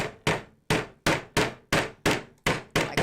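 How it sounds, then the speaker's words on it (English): A hammer hammering down staples on a wooden canvas stretcher frame, eight sharp, close, evenly spaced knocks, loud and alone. "sometimes the staples don't go all the way in, so then I take my hammer and just hammer them down"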